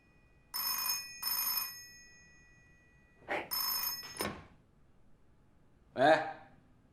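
An old-style telephone bell rings in repeated bursts, two quick rings, a pause, then another pair, fairly loud in a quiet office, with a short voice cutting in near the end.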